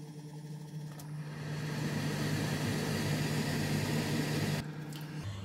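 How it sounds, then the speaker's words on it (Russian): A kitchen range hood fan runs over a pot of cheese soup, a steady airy whoosh with a low hum that rises in and then cuts off near the end. "И включаю вытяжку"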